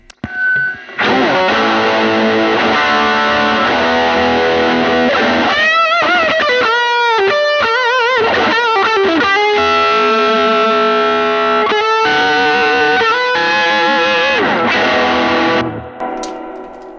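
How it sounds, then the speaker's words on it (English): An electric guitar played through an Elmer combo amp with no pedals, running a continuous blues passage of chords, bends and single-note runs for about sixteen seconds, loud and close with no voices. "Let's hear the Elmer combo on its own"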